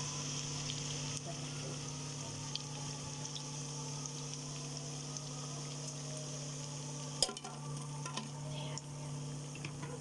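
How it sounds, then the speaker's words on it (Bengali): Cabbage fritters fry in oil with a quiet, continuous bubbling sizzle over a low steady hum, with a single sharp clatter partway through. "আমি আবার ভেজে নিই এক এক করে এগুলা।"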